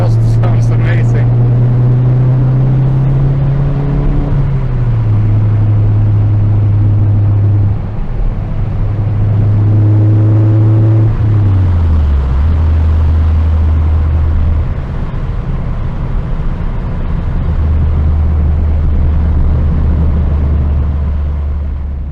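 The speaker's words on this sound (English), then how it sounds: "The exhaust sounds amazing." Saab 9-5 Aero exhaust droning close and loud during a test drive, engine pitch rising and dropping through several gear changes as the car accelerates, with steady road rumble underneath.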